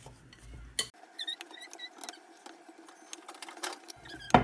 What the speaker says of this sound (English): I'm going to mix that through, help that bind all together